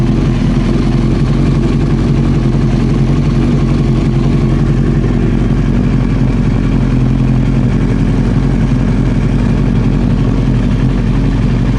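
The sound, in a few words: Honda CBR 900 Fireblade motorcycle engine running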